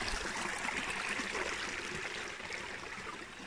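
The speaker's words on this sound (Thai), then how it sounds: "นี่ลำธารนะจ้า" A forest stream in Ireland flows with a soft, steady rushing and trickling wash, quiet and continuous without voices.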